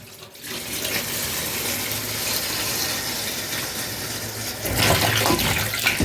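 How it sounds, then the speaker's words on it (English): Clean tap water runs steadily over chicken feet in a sink, a constant close hiss that swells louder near the end as the flow shifts. "Starting by washing the chicken foot, right? With some running, clean, pretty running water"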